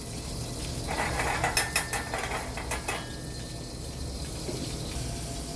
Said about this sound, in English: Hear that sound? Scrape, scrape, scrape.